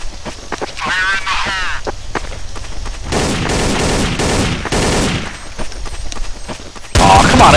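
Bursts of rapid gunfire in Counter-Strike: Source on the Dust and Aztec maps, loud and close, with players talking excitedly between and over the shots.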